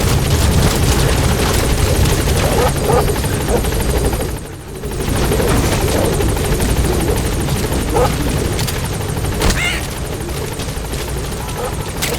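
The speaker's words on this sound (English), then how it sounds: "Support helicopter has arrived." Support helicopter in the video game Metal Gear Solid V arriving at a landing zone, its rotor thrumming loud and steady throughout with a brief dip midway.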